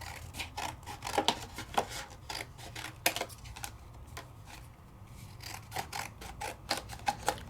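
Paper is cut down on a paper trimmer for a Sizzix die-cutting project, giving a close series of light clicks, slides and scraping strokes in an uneven rhythm, with no voices.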